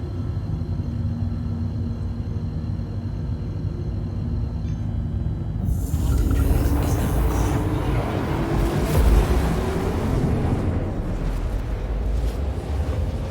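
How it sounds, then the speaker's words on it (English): A Drake Herald's quantum drive in the Star Citizen game hums quietly, then after about six seconds bursts into a loud, rumbling whoosh that sustains with a rough, churning roar to the end. "let's check out this quantum drive"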